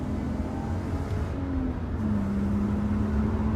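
A Lexus IS200 drives along a clear road, its exhaust a steady low drone with a faint rising tone partway through, heard from inside the car with no talking.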